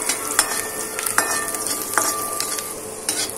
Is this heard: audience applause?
no